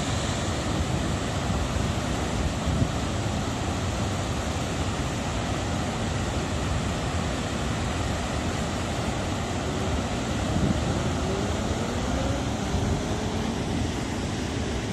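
Water rushing at a dam on the Serayu River, a broad continuous roar like surf or a waterfall, steady and fairly loud, with no talk over it.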